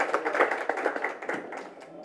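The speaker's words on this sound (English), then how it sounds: "Applause to that." Brief applause from an audience at a book launch, a short burst of scattered hand claps lasting about two seconds at moderate level, fading slightly toward the end.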